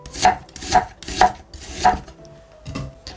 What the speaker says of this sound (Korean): 양파 한 4분의 1개 정도를 채 썰어주시면 됩니다